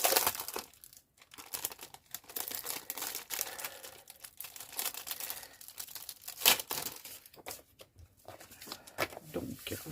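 Plastic packaging around sheets of clear rubber stamps being opened by hand gives close, continuous crinkling and rustling with a few sharper tearing crackles.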